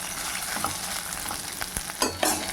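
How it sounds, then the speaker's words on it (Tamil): Curry leaves fry in a pan for a Tamil drumstick-leaf idli podi, giving a dense, steady close sizzle broken by a few light scrapes and crackles. "அதுவும் இதில் வறுத்துட்டோம்னா நல்லா காஞ்சிருங்க"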